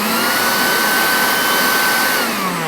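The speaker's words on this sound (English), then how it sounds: "the unit is actually pretty loud. I'm gonna go ahead and turn it on for you guys so you could hear how loud it is" A cheap Harbor Freight electric leaf blower runs steadily with a loud, constant high-pitched whooshing whine, close up and without talk.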